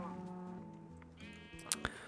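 A Minecraft sheep bleats in a wavering tone over steady game background, followed by a couple of short sharp in-game clicks or pops near the end.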